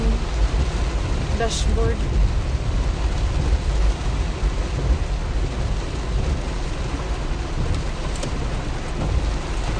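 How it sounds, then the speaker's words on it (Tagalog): Steady heavy rain hisses across the whole clip with a deep rumbling underneath, and a voice speaks briefly over the downpour. "Malakas na naman ang ulan."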